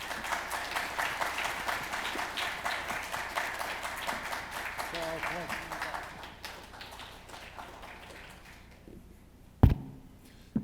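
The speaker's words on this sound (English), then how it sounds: "Chung with warm rounds of applause." Audience at a policy symposium opening ceremony claps to welcome a speaker, a dense steady wash of hands that fades after about six seconds, leaving quiet room tone with a sharp thump near the end.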